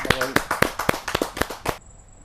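Applause at a Hindi poetry gathering (kavi sammelan): about a dozen sharp, loud bursts of clapping in quick succession, then it stops abruptly and a faint high tone remains.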